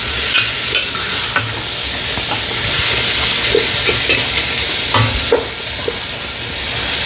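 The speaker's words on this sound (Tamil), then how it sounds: "டக்குண்டு தக்காளி பழம் நல்லா வதங்கி வரும்" Tomatoes fry in salted oil in a pan, a steady loud sizzle running throughout with scattered scraping taps of a ladle as they are stirred.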